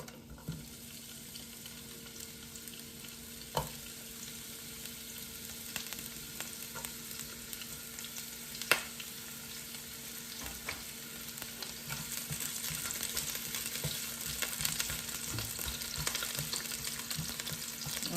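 Onion fries in a pan with a soft, continuous sizzle that swells toward the end, with occasional stirring clicks, while cooking for Jamaican-style steamed snapper; no voices.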